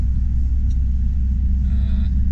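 A car's steady low engine rumble and road noise from inside the vehicle as it drives out of Lublin, continuous and fairly loud throughout, with no talking.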